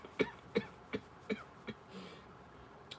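Five short, sharp coughs come in a quick, steady series from a single nearby person, followed by quieter breathing and a faint click at the end.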